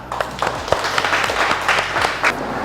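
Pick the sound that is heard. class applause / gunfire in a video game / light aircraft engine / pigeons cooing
class applause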